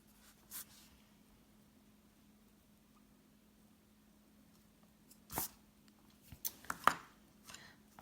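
Coloured pencils, siennas and burnt siennas, drawn across paper while colouring skin tones, give faint, sparse scratching strokes. A few short bursts cluster near the end over a low, steady room hum.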